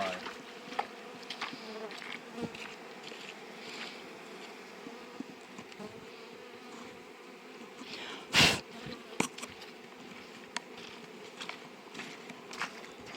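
Honeybees buzz around their nest in spring, a soft continuous hum close by with scattered clicks and light handling noises and one brief loud crackle midway.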